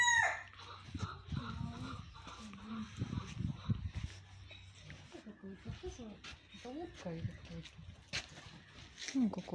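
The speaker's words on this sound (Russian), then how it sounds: "Это утка, огари называются." Ruddy shelduck calling among mixed farmyard birds, including crowing and clucking fowl, with repeated nasal honks set under frequent nearby conversation.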